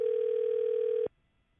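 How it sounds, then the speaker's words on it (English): A steady telephone dial tone holds for about a second on a house phone line, then cuts off abruptly into silence. "I am dialing my own number"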